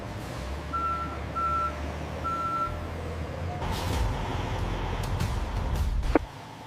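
A delivery truck at a peanut butter factory reverses, its backup alarm sounding three evenly spaced beeps over a steady low engine rumble, followed by louder clattering and a hiss near the end.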